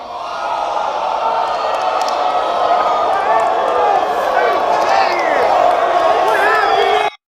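Crowd noise at a battle rap event, loud and continuous throughout with whoops and shouts, voices mixed into the roar, cutting off abruptly at the end.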